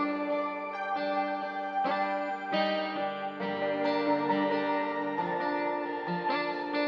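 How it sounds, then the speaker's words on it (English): Acoustic guitar layered with synth counter melodies from Nexus and Serum presets in a hip-hop beat, a steady, sustained harmonic bed with effects and reverb, playing alone without voices. "the acoustic guitar with the counter melodies together sounds like this"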